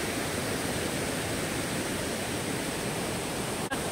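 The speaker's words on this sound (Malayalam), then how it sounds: "ഇവിടെ നിന്നാണ് വെള്ളം കീപ്പോട്ട് ഒഴുകുന്നത്." Kuthumkal waterfall at Rajakkad, water pouring over the top of the falls as a steady, loud, dense broadband rush that stays constant throughout with no voices.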